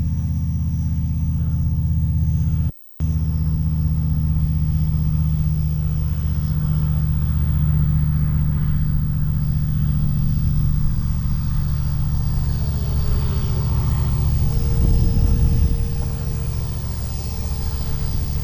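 An Arrows RC T-33 small model jet cruises in flight, giving a steady loud rumbling drone with one brief dropout early on and a swell near the end, with no talking.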